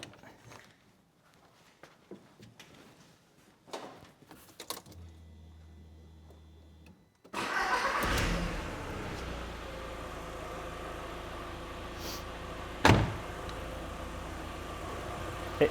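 An Audi TT that has sat parked for four years is started: quiet shuffling and a brief cranking hum, then the engine catches and settles into a steady, loud idle with a few clanks from nearby.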